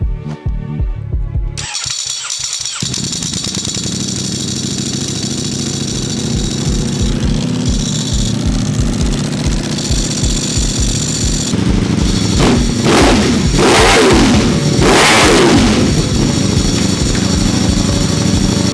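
A 2021 Ducati Streetfighter V4S motorcycle engine starts and idles with a throbbing pulse, then revs sharply several times, loud and close in a garage.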